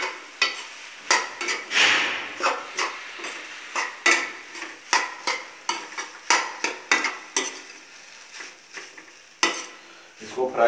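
Rice with turmeric and spice masala frying in a pan for jeera rice, stirred with repeated scraping strokes of a spoon against the metal over a soft continuous sizzle, close and steady with no talking.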